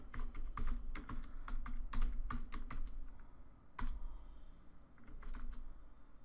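Rapid typing of code on a computer keyboard while writing an Android Studio ListView program, a close, continuous patter of key clicks in uneven bursts, with a brief pause and louder keystrokes near the end.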